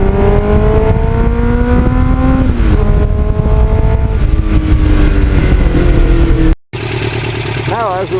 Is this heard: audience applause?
no